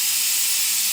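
Steady, loud hiss of steam rising off a hot cooked meal on a plate, a continuous close airy rush with no breaks and no voices.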